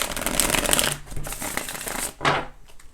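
Tarot cards are shuffled in quick riffling bursts, three distinct passes separated by brief pauses, close and crisp.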